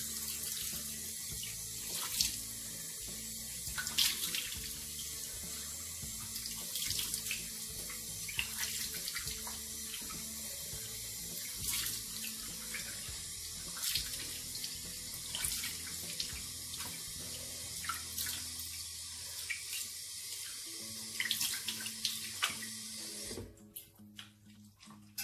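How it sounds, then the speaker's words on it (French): A bathroom tap runs steadily into a sink for a face and mouth rinse, a continuous hissing stream broken by splashes and drips, close by, ending abruptly as the water is shut off near the end. "je rince la bouche à grande eau"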